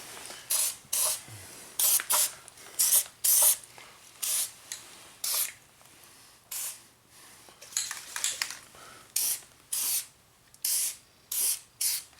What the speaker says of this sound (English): everything gets coated with fluid film, all the holes, all the threads, all the welds